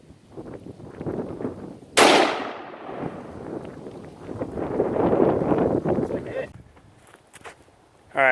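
A single loud .308 rifle shot fired at an iron target outdoors, a sharp crack with a long decaying echo, followed by shuffling and movement, with talking nearby.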